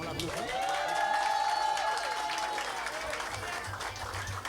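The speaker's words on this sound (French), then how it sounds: "On l'applaudit." Crowd applause at a live konpa show in Montreal, a dense, steady wash of clapping filling the room throughout, with voices and a sustained tone riding over it and some low thumps near the end.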